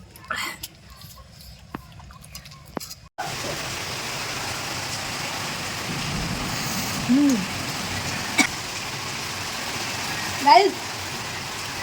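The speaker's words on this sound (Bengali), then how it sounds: "পুরো ঝড় বৃষ্টি হচ্ছে বাইরে কিচ্ছু দেখা যাচ্ছে না" Heavy stormy rain pours outside, a dense steady roar that starts abruptly after a quieter opening and continues loudly, broken by a few brief vocal sounds.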